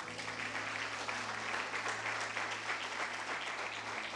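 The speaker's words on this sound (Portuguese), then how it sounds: "Aplauda o nome do Senhor." Church congregation clapping in praise during a worship service, a steady, even wash of many hands heard at a distance and fairly quietly, with a low hum underneath.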